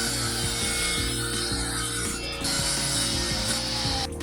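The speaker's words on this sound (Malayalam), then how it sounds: "ഈ 19 ഇഞ്ചുള്ള വീതിയിലുള്ള ഈ പീസിൽ നിന്ന് ഏകദേശം 8 ഇഞ്ചിൻ്റെ ഒരു പീസ് നമുക്ക് ഇതിന് കട്ട് ചെയ്തെടുക്കണം" A handsaw cuts through a piece of wood for a tabletop coconut scraper, rasping in steady back-and-forth strokes with a rhythmic grinding texture, loud and close throughout.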